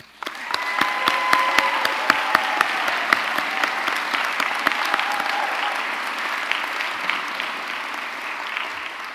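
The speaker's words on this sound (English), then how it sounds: "Today is all about lots of clapping, so let's keep doing that." A crowd at a commencement ceremony applauds steadily, many hands clapping in a dense, lively patter that carries on for several seconds before easing slightly.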